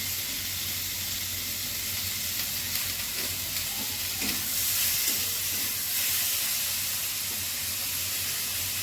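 Green chillies hit the hot oil of a rohu fish curry cooked with ridge gourd, setting off a loud, continuous, close-up hiss and sizzle that stays steady throughout.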